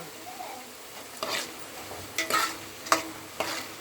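Kara boondi frying in hot oil with a curry leaf tempering, a soft steady sizzle broken by several short scraping stirs of a ladle against the pan, close and clear with no talking.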